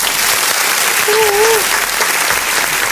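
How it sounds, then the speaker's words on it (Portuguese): Audience applause for postal workers of Brazil, a steady wash of many hands clapping at moderate loudness throughout, with a brief voice or whistle rising over the middle. "Uma salva de palmas para todos os trabalhadores dos Correios de todo o Brasil aí"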